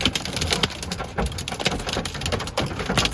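Big hail from a supercell falling outdoors near pine trees, irregular hard knocks and patters clattering on surfaces in a steady broken rhythm with wind noise behind.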